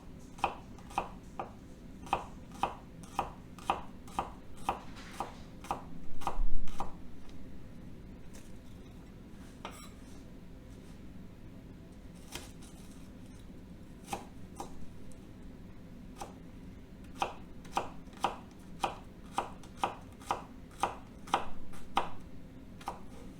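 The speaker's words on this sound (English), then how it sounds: "Same thing, we can cut it into little bitty rounds." A Shun paring knife slices food into little rounds on a board, producing crisp evenly spaced taps in two runs separated by a quieter stretch, close and clear with no talking.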